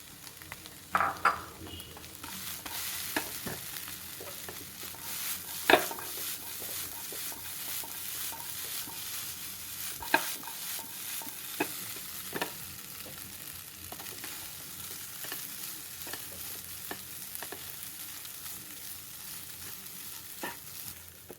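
Kothu idiyappam, shredded string hoppers, tossed and mixed in a frying pan, giving a long stretch of soft sizzling with regular spatula taps and scrapes against the metal.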